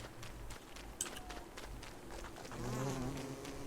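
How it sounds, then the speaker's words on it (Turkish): A soft, steady bee buzz in the video game Don't Starve Together hums under faint ambient noise, with light clicks and a low swelling drone near the end. "Şimdi dört tane arı lazım bize."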